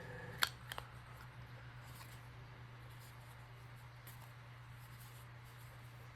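A couple of quick scissor snips trimming a paper piece for a turtle-themed ATC card, faint and close, followed by quiet room hum with no talking.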